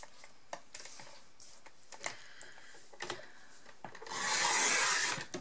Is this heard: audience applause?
no